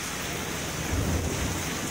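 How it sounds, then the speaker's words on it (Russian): Heavy rain pours steadily during an autumn thunderstorm in Athens, Greece, with a low rumble of thunder swelling midway through the wash of rain. "в Греции не только солнце, в Греции бывают и дожди"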